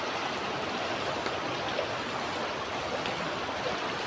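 Steady rushing water, like a flowing stream, fills the whole clip with an even, unbroken wash of sound.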